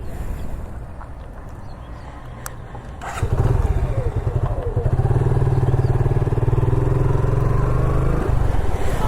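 A carburetted Suzuki Gixxer motorcycle engine starts partway through and settles into a steady, close, throbbing rumble as the bike rides, with faint wind noise before it.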